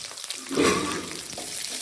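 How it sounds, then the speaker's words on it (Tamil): Onions sauté in a pan for a mushroom pepper fry, making a soft, continuous sizzle with a slight swell partway through, close and without talk. "வெங்காயத்தை போட்டு கொஞ்சம் வதக்கிட்டே இருங்க லைட்டாக"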